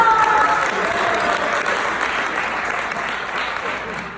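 An audience at a high school ceremony applauds in a dense, steady burst of clapping that slowly tapers, with a voice over it at the start.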